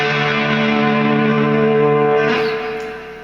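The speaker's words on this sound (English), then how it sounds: "if you throw the toggle switch down into the neck position and throw a little distortion on it" A distorted electric guitar chord on the neck pickup rings out with a crunchy, buzzing tone, sustaining loudly before fading at the end.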